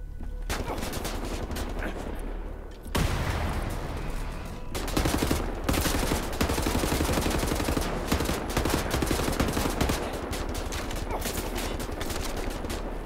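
Sustained gunfire in the video game Wolfenstein: The New Order, loud dense automatic bursts that break off briefly and then resume as heavy continuous shooting.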